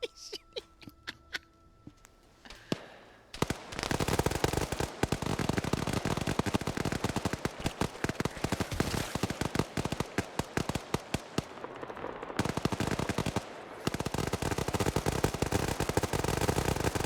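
Gunfire crackles in a video game where US Marines fight bugs: after a few separate shots, dense rapid automatic bursts run almost nonstop at steady loudness and break off briefly near the end.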